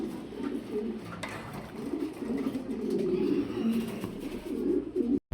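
Several Mundi pigeons coo continuously at close range in a pigeon farm loft, a steady low burbling chorus that holds through most of the stretch with no clear pauses.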